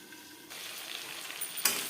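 Chicken pieces for chicken chaap sizzle in hot oil, a steady soft fry that swells into a louder burst of crackle near the end, with no voices.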